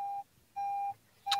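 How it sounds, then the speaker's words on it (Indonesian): An alarm beeps in three steady electronic tones, each held for a fraction of a second with short gaps between them, clear and fairly close with no talking. "Sorry, maaf, alarm saya bunyi,"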